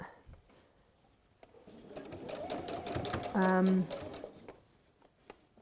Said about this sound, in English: I'm just going to put in a little holding stitch on that seam